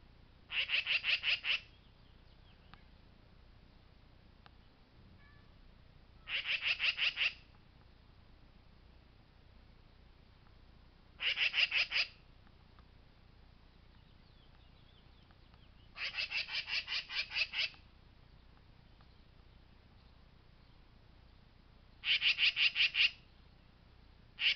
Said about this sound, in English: is a magpie that harasses my cat.